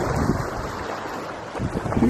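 Wind-driven waves wash against the shore of Jenny Lake in Grand Teton, a loud steady surf roar mixed with gusting wind buffeting the microphone, no talking.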